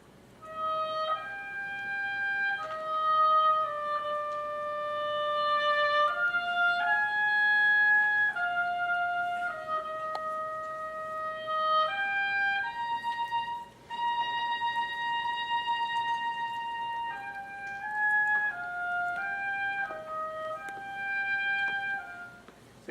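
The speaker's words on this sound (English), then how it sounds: "he takes this very jolly tune and turns it very poignant later in the oboe" A solo oboe plays a slow, poignant variation on the theme from Beethoven's Eroica Symphony, with clear sustained notes moving in stepwise phrases and a brief breath pause midway, intimate and alone.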